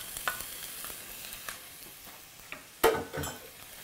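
Onion drops into hot oil in a pan and starts frying, a soft steady sizzle with scattered clicks of utensils and a louder clatter near the end, no talk.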